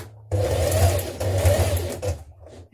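A domestic sewing machine stitches a seam in dress fabric, starting with a back tack, as two close, loud motor runs with a short pause between and a brief burst at the end.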